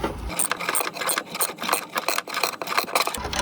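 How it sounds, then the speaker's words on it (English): A brake line flaring tool screwed down with a socket and ratchet, giving a rapid run of rough metallic clicks and scraping strokes, close and loud with no talking. "So we're just going to screw that in, and then the socket to get a bit of force on the job."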